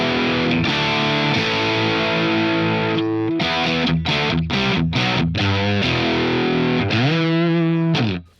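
Heavily distorted electric guitar through a Boss DS-1 distortion pedal set at about 9 o'clock, playing sustained chords and choppy riffs, loud and saturated throughout with brief gaps between phrases.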